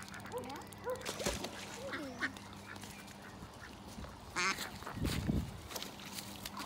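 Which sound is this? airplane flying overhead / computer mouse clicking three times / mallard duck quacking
mallard duck quacking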